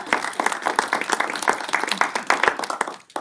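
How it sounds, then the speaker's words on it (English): A modest audience at a community scam-prevention event claps, with distinct individual hand claps close by forming a brief round of applause that fades out at the end. "So let's give them a round of applause."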